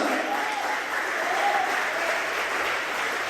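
Worshippers clap for God during a church anniversary service, sustained, even applause from a full room that holds at a steady level throughout, with a faint tone ringing beneath it.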